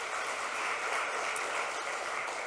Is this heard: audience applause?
yes